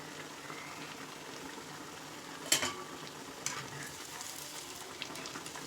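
Kakera dumplings frying in very hot oil for an Odia meal, a steady soft crackle and sizzle with a couple of sharper pops and splashes as pieces go in, fairly quiet and close.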